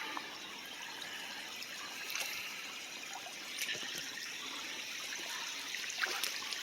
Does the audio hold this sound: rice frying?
no